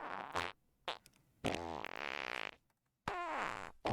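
Several comic fart noises in the video game Monster Hunter Rise: short bursts and longer buzzing, sputtering blasts separated by silent gaps, loud and close, with no talk.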